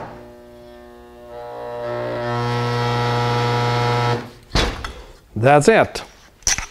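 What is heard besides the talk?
220V spot welder welding aluminum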